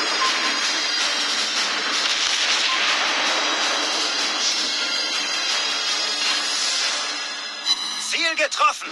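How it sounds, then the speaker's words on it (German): Enemy aircraft engines in the naval game World of Warships Blitz, a loud sustained droning roar that fades toward the end as game voice callouts break in. "Gegnerische Flugzeuge kommen!"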